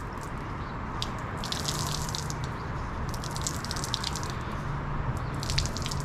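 Water sloshes and drips in a bucket as a wash mitt is rinsed out during a rinseless car wash, a steady close splashing with bursts of trickling.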